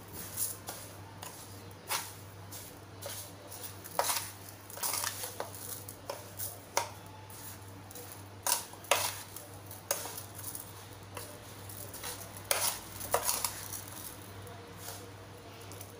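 Lemon pickle being mixed with salt and red chilli powder in a bowl, giving irregular clinks and scrapes of a spoon against the dish, close and moderately loud over a low steady hum.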